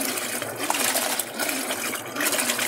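Whirlpool Cabrio top-load washing machine mid-wash with a low water level, sloshing and swishing in pulsing surges of water churning against the drum, close up and fairly loud, with no voices.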